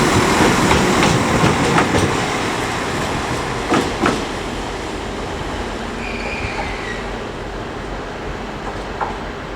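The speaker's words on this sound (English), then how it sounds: "Here is 195103 with a northern service to York from Blackpool North" Northern train 195103 passes through Leeds station with a steady rolling rumble, faint wheel squeals and clatter over the rails. The sound is moderately close and fades gradually, with no one talking.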